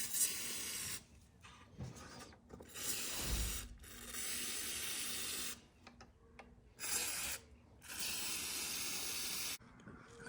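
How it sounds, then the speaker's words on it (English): Mass airflow sensor cleaner sprayed onto the sensor of a 2005-2011 Audi A6 C6: several bursts of hissing aerosol spray of a second or two each, separated by short pauses, close and fairly quiet. "I'm using this mass airflow sensor cleaner to clean the mass airflow sensor."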